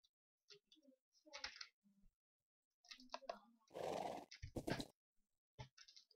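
Short Minecraft horse whinnies and snorts during horse taming in the game, mixed with mouse clicks and brief bursts of talk.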